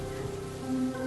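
Steady rain falls outside, a soft continuous hiss of drops on surfaces with no voices over it.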